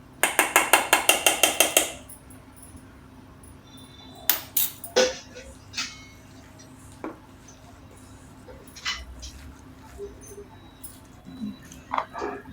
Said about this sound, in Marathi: आता हे मिक्स करून घेते सगळं